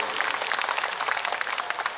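An audience at an Islamic religious lecture in Ponorogo breaks into loud, dense applause, many hands clapping rapidly and continuously, close and without talk.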